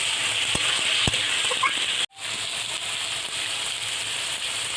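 Chicken pieces sautéing in a pan for chicken chowmein, giving a steady broadband sizzle with a couple of sharp utensil clicks and a brief dropout midway, no talking.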